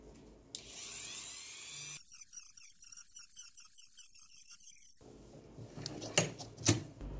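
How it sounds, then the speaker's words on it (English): A Dremel rotary tool cuts through the copper links on a printed circuit board, giving a steady high-pitched whine with a rapid pulsing grind, a quieter close-up stretch in the middle, then a few sharp clicks at the end. "With the Dremel, I'm just going to break each of the PCB links so the power has to go through the resistor."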